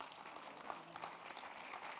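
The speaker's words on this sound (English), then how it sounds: "With a round of applause" Faint, steady clapping from a crowd at a Bharatanatyam dance debut, soft and distant throughout.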